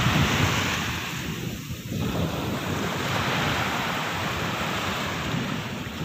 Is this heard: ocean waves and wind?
yes